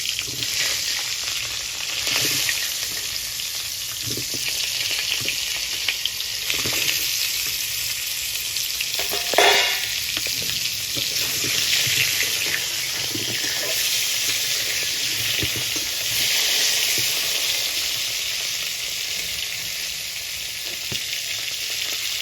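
Sliced pointed gourd (potol) fries lightly in oil in a pan with a steady close sizzle throughout, a few stirring clicks and one brief sharper scrape partway through, no talking.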